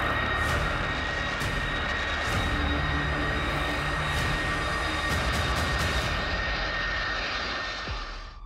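Air Force One, the US presidential jet plane, roars steadily with loud, continuous engine noise close by, holding level throughout before easing off slightly at the very end.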